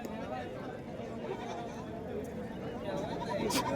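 Sheep bleat among a lively crowd at a busy sheep market, the animals calling under continuous chatter and a babble of voices, with one sharper cry near the end.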